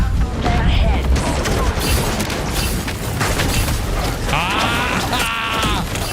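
Bursts of submachine-gun fire in a shooter video game, dense and rattling, layered with other in-game booms and effects while a player talks over the action.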